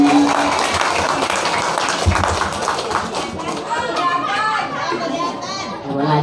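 An audience at a Muharram commemoration in a Jakarta prayer hall claps in a loose burst, with children's voices and chatter mixing in and a host talking over the room.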